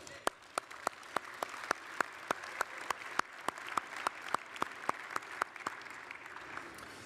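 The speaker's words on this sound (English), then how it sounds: "Please give yourselves a round of applause." Guests at a corporate partnership dinner during the National Space Symposium applaud, with sharp, evenly spaced claps standing out over a soft background of clapping that continues steadily.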